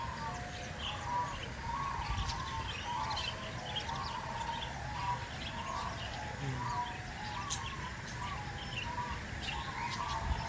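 Pigeons in an Australian bird park, a soft repeated cooing pattern in the middle distance over steady background hiss, with a few faint chirps from other birds.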